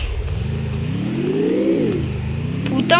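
A car engine in the Free Fire video game revs and accelerates steadily, its pitch climbing to a peak and then falling back, loud and continuous with no talk over it.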